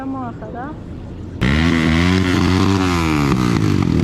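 Japanese motorcycles revving at an illegal biker gathering on a blocked highway, a loud sustained engine roar kicking in abruptly after a quieter stretch, with rising and falling revs close by.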